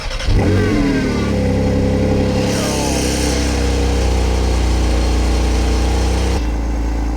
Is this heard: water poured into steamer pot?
no